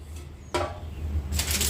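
A metal pressure-cooker tin container is handled in a home kitchen, giving two short clanks about a second apart over quiet room tone.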